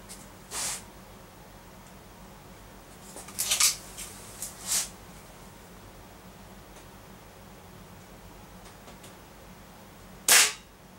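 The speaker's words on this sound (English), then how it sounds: "Shooting the same pellets," A Crosman Phantom .22 air rifle with a modified piston fires pellets during chronograph testing, giving a handful of sharp, isolated cracks spaced seconds apart over a steady faint background hiss.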